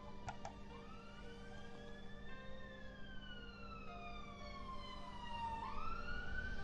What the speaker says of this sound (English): a bleeding ambulance decides not to go down the frigging road